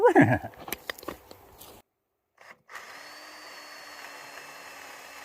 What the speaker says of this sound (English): You drill the hole.